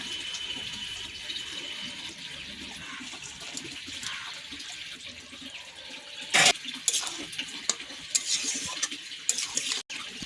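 Simmering tilapia fish curry with eggplant and potato in a covered pan, a steady soft bubbling and sizzle with faint watery sounds, broken by a couple of sharp clinks and taps of utensils against the pan.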